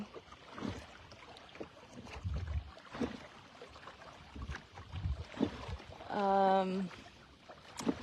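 A rowing boat moves on the Potomac River: soft, rhythmic oar strokes and water sloshing under light wind noise, with faint voices nearby and a brief tonal sound near the end.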